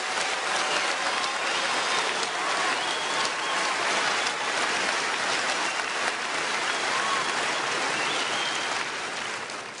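Applause from an audience at a forum, a steady, dense wash of clapping that fills the whole stretch without pause.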